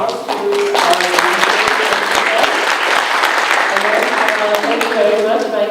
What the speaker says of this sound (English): I would like to try me to give a round of applause to